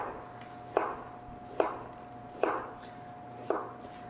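A knife cuts an onion into cubes on a board, four crisp chops at a slow, even pace, close and clear against a quiet room.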